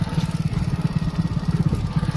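A motorcycle rides along with a close, steady throbbing engine and rapid rhythmic pulses throughout.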